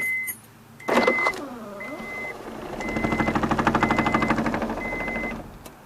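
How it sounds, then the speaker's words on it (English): The power sunroof of a 1999 Honda Prelude Base VTEC slides with a whirring electric motor and a rhythmic mechanical ratcheting, close up inside the cabin. A faint high tone persists in the background. "it does come with a sunroof that fully works"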